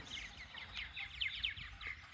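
A flock of about twenty martins chattering together, a busy stream of overlapping chirps and twitters heard at moderate distance over low background rumble.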